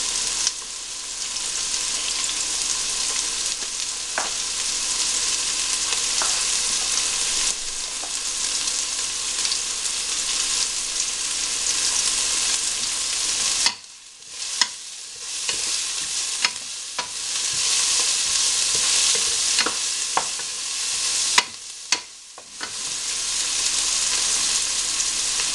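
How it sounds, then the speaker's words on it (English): Pork stew ingredients fry on high heat with garlic and onion, giving off a loud, steady sizzle. Brief stirring breaks the hiss here and there, and the pan crackles close up with no talking. "You just let that fry up on high heat for a few minutes."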